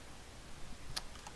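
Keystrokes on a computer keyboard as a chat client is restarted, a few quiet clicks clustered near the end of a short stretch of low background noise.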